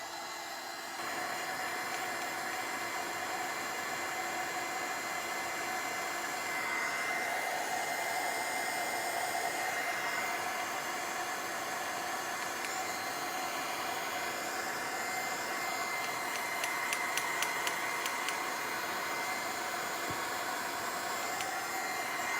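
A heat tool blows steadily over a painted antique wooden box, giving a continuous close whooshing roar with a slight shift in pitch partway through as it moves and dries the paint.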